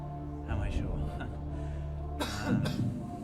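A contestant on a TV quiz show lets out a few coded coughs and throat clears, scattered short bursts heard close amid background chatter and studio murmur.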